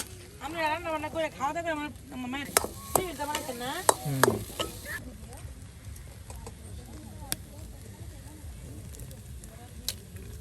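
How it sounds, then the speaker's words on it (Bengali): Potatoes fry in a pan with a soft sizzle and scraping stirs, while someone talks over the first half before the cooking carries on alone with occasional clinks. "আপনার এই যে একদম আলুগুলো ভেজে ভেজে একদম ভেজে ভেজে"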